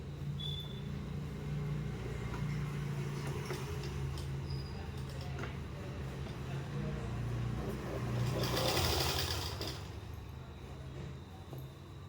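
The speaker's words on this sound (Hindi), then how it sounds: "इसी तरह मैं सेम यहाँ पर भी सिलाई लगा लूँगी।" A sewing machine steadily stitches a kali plazo garment with a continuous low mechanical whir that swells slightly near the end, quiet and close.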